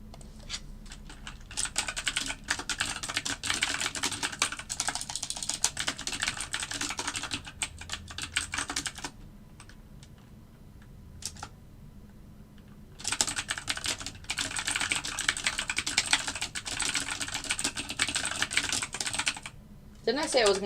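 Rapid, close computer keyboard typing in long continuous bursts of clicking keys, with a few seconds' pause in the middle before the clatter resumes, during algorithmic trading at a desk.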